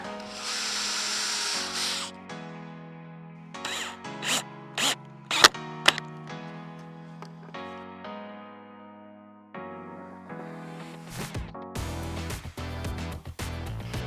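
A power drill countersinks and drives screws into wooden boards, its motor whirring up and down in several bursts with sharp mechanical clicks and bangs between runs, loud and close.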